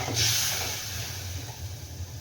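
Water goes into frying masala for an Agri Koli style sour black fish curry. A sharp hiss flares up at the pour, then settles into a softer, steady sizzling over a low rumble.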